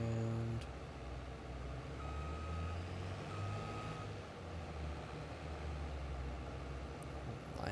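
A large farm vehicle in a farming video game backs up with repeated reversing beeps under a steady low engine drone, the beeps clear and mid-distance with a brief pause partway through.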